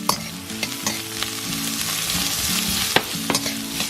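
Onions frying in olive oil in a wok, a continuous close sizzle with scattered crackles and the occasional scrape of stirring.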